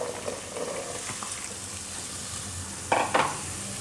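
Ivy gourd (tindora) drops into a pan of hot oil tempering for a Gujarati tindora-potato dish. A soft, continuous frying crackle runs under two sharp hissing bursts close together near the end, with no voices.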